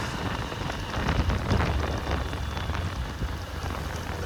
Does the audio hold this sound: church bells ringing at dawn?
no